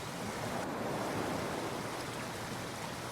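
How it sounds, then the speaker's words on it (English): Ocean waves breaking and washing onto the shore, a continuous soft rushing surf with no distinct individual crashes, fairly faint and steady, with no voices. "Until you listen to the breaking and washing of waves."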